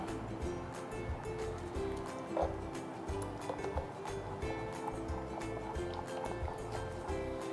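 Water being stirred into wheat dosa batter in a bowl, a steady sloshing, swishing mix that continues throughout, close and moderately loud, with no talking.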